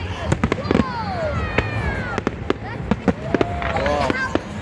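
Bonfire Night fireworks display in Oxford, with repeated sharp bangs and crackles scattered irregularly, plus rising whistling rockets, heard outdoors with people talking nearby.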